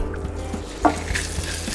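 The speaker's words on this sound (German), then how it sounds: "Und dann brate ich erst das Fleisch ein bisschen an und dann gebe ich auch gleich die Zwiebeln dazu." Chicken pieces and onions fry in a hot pan, a soft steady sizzle with a brief scrape or clink near the middle, heard up close with no talking.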